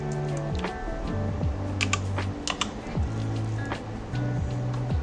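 Fingers type on a computer keyboard at home in quick, uneven bursts of close, crisp key clacks, with brief pauses and no speech over it.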